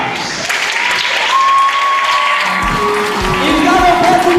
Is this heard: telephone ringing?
no